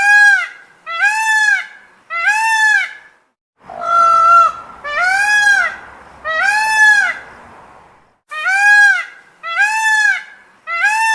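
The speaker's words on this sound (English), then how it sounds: "Peacock squawks." A peacock gives loud, near, repeated honking squawks in rhythmic groups of three, separated by short pauses, with faint background noise during one stretch.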